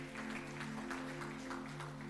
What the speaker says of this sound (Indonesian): Kasih tepuk tangan buat Tuhan gitu.